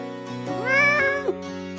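A domestic cat gives a single drawn-out meow that rises, holds and then falls, lasting about a second. It is clear and close over a steady humming tonal background, with no talking.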